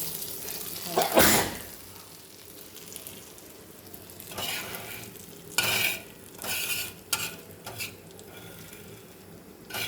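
Fish fries in a pan with a steady sizzle, broken by sharp scraping stirs and spatula handling in several loud bursts; no talking.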